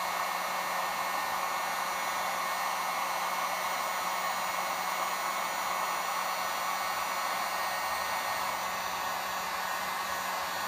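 A hair dryer blows hot air onto a warped vinyl LP record, a constant close whooshing roar with an even motor hum and no pauses.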